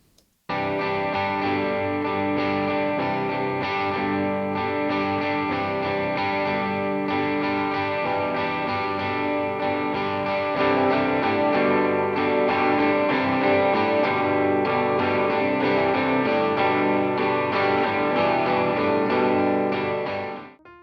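A distorted electric guitar plays a sustained, continuous lead part alone, thick and effects-laden, holding steady volume before cutting off.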